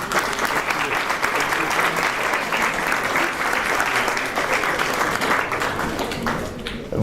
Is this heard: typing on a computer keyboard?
no